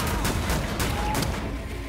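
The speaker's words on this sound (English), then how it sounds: "Oh, I love this shotgun." Shotgun fire in Wolfenstein: The New Order rings out loud and dense, with blasts blending into continuous booming combat noise.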